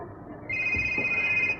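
A mobile phone rings in a room, its bright electronic tone starting suddenly and holding steady for about a second over a quiet background with faint low thumps.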